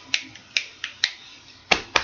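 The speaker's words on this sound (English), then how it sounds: "rubbing your hands, snapping your fingers," Fingers snap during a group rain energizer activity at a staff training. About six crisp, close snaps come at an uneven rhythm, with quiet gaps between them.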